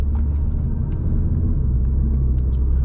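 Inside a 2024 Audi RS3 on a road, a deep continuous engine and road rumble runs loud and steady throughout, with faint ticks and rattles above it and no voices.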